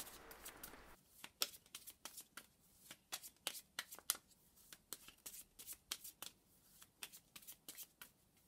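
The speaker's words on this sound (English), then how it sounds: "So I'm just going to give these cards a shuffle." A deck of cards being shuffled, a rapid run of crisp riffling snaps lasting several seconds, close and clear with no talking.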